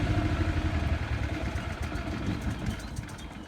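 A water bowser's pump engine runs at a steady idle with a low, even rumble and a light mechanical clatter throughout, close by and alone.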